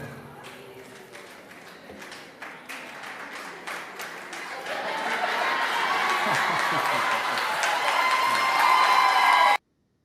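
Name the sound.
audience cheering at school board meeting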